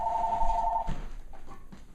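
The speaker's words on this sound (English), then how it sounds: "my phone's ringing" A phone rings with one short electronic tone that stops abruptly, followed by faint rustling and muffled handling noise in a quiet room.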